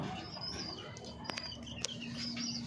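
Pet pigeons in a loft give faint, scattered coos and soft chirps, with an occasional light wing flutter, over a low, steady background.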